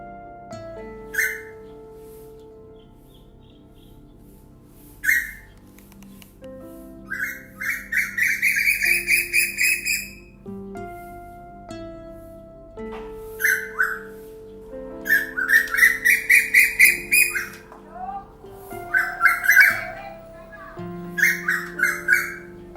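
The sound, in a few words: koel calling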